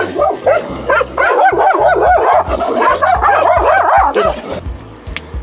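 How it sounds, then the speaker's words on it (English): Several dogs barking loudly and repeatedly near a steep hillside road in Northern Spain, rapid overlapping barks with whining yips over a low rumbling background, fading out near the end. "Oh, bloody dogs again."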